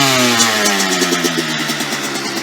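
A dirt bike engine revs loud and close as the throttle is twisted back, its pitch rising and then easing, with a rough, pulsing motorcycle drone throughout.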